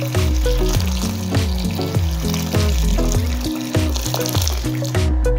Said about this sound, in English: And then in that, we'll add about 6 cups of hot water.